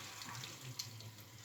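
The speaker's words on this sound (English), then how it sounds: "Drop a bit of water" Water runs and splashes steadily as it is poured into a cooking pan, like a stream from a tap or jug, fairly close and without any talking.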